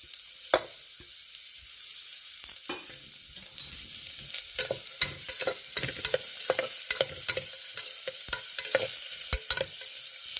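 Onion and garlic frying in a spoonful or two of ghee for a drumstick-leaf pulao, a soft continuous sizzle with frequent sharp clicks and scrapes of the spoon as it's stirred, close and without speech.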